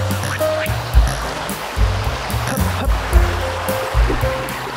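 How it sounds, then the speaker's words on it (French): Steady rush of flowing river water with a broad, continuous wash of noise, periodic low thumps and faint higher tones over the top. "Nous voilà à la rivière."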